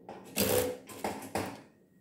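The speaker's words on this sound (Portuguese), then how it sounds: "Vamos iniciar a costura aqui na máquina reta, fazendo o pesponto da nossa vista" A straight-stitch sewing machine topstitches the facing of a chemise dress, giving several short close bursts of whirring stitching separated by brief pauses.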